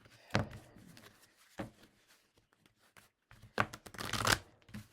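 Deck of cards shuffled by hand before a tarot-style reading, giving soft papery riffles and taps in irregular bursts, close but quiet, with brief pauses between handlings.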